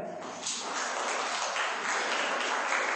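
An audience claps together after a song at a gathering, a dense, even wash of applause that carries on for a few seconds.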